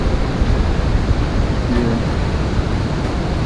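A waterfall and river pour steadily at a backcountry campsite on a Kentucky backpacking trip, a dense, unbroken roar heard close by.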